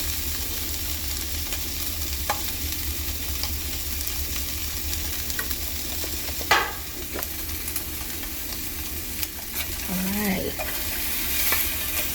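Precooked ham sizzling in a frying pan as it warms through and browns, a steady close frying hiss with occasional stirring scrapes and clinks.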